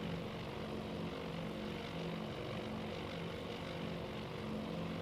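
Steady, loud droning of WWII propeller bombers flying in formation in the Task Force Admiral video game, a continuous engine hum with a low throbbing pulse and no voices over it.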